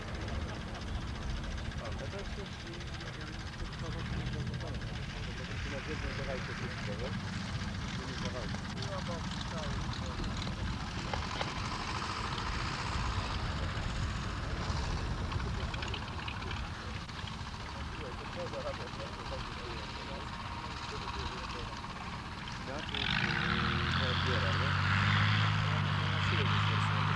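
Kobuz-3 model aircraft performing aerobatic manoeuvres at the 1987 World Championships in Bielsko, its engine a distant droning whine that swells and fades, growing louder near the end, with people chatting nearby throughout.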